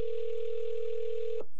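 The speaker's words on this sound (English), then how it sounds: "Listen to this phone ring." A single steady telephone ring tone sounds on an outgoing call, holding one clear pitch for about a second and a half before cutting off.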